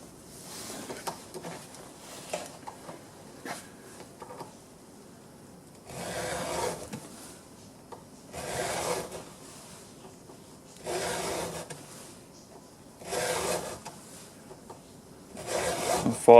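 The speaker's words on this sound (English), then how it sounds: "So I'm trying to keep that file as flat this way as possible." A hand file is drawn across a chainsaw chain tooth in slow, steady rasping strokes, six or so spaced a couple of seconds apart, close and fairly quiet, with faint handling noise between.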